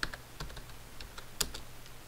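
Quick, uneven keystrokes on a computer keyboard as someone types a chat message, a handful of light clicks with one sharper tap near the middle, fairly faint and close with no talking.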